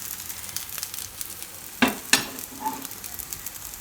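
Oats and vegetable pancake cooking in a pan, with a steady low sizzle and a couple of sharp clattering scrapes as it is turned, followed by a softer clink.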